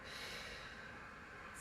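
An inhaled breath during a Pilates exercise: one steady, airy intake lasting over a second, close and fairly quiet, with no talking.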